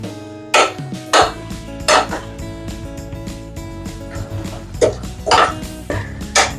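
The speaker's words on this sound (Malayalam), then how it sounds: "അപ്പൊ ഗൈസ് 1 മിനിറ്റ് കഴിഞ്ഞു കേട്ടാ നമ്മൾ ഇളക്കാൻ സ്റ്റാർട്ട് ചെയ്യുന്നു." Aviyal, a Kerala mixed-vegetable curry, being stirred in a pot, with repeated scraping and clinking strokes of a spoon against metal coming in irregular bursts over a steady low kitchen hum.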